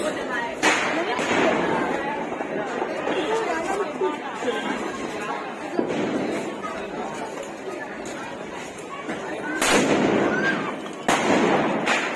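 Diwali firecrackers and anar fountain fireworks go off outdoors, with a few sharp bangs and cracks over a continuous hiss and crackle while people chatter and call out nearby.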